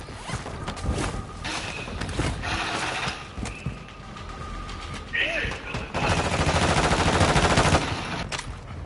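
Gunfire in a military shooter video game, bursts of rapid automatic shots and sharp cracks spread across several seconds, with sustained noisy stretches and some voices in between.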